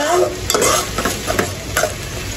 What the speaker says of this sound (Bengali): এবার একটু লাড়াচাড়া দিয়ে ভালো করে